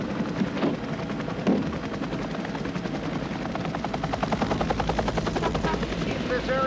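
A medevac helicopter lifting off: its rotor thumps steadily and builds in a fast pulsing beat, loud and close, with broadband engine roar throughout.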